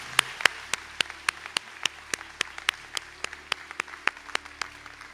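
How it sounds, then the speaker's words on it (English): Sparse applause at a graduation conferring ceremony, a small number of distinct hand claps ringing out one after another in a large hall, loosely spaced and fairly close. "So if we could have a round of applause for those candidates,"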